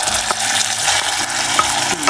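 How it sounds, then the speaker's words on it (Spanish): Sliced piquillo peppers with garlic frying in a pan, a steady loud sizzle with occasional stirring scrapes and small pops, close up and continuous, no talking. "Voy a echar los pimientos de piquillo que ya están cortados en láminas."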